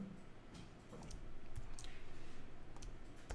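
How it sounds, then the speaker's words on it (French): A computer mouse clicks a few times, sharp and close, while a user works in Adobe Illustrator 2017, over a low steady background hum. "je clique sans bouger la souris"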